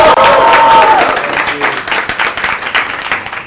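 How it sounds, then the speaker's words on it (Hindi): Studio audience breaking into applause and clapping, loud at first then settling into scattered claps, with a brief voice and tone near the start. "सबसे पहले जोरदार तालियां"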